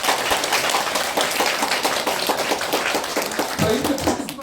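Audience applause at a shop's opening ceremony in Jeonju, brisk continuous clapping from a gathered crowd, loud and close, easing slightly near the end.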